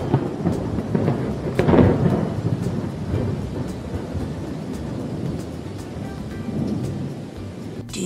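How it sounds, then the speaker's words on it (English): A thunderstorm with rain: a low rumble of thunder swells early on over a steady hiss of falling rain that continues throughout, with scattered drops ticking. "Do you know what weather that was outside? It looks like it was stormy outside."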